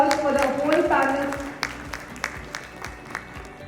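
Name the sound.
audience applause for the panel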